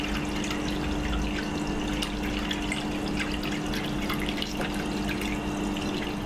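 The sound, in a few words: filling stainless steel water distiller tank with purified water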